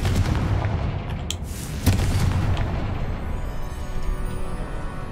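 A Confringo fire spell blast in Hogwarts Legacy lands as a heavy low boom with a second thump shortly after, over a constant rumbling background.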